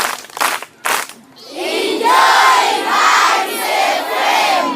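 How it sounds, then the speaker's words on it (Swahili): A children's audience at a radio event breaks into loud, sustained group cheering and shouting with clapping, following a few brief vocal bursts; close and full, swelling in waves. "Wapigieni makofi."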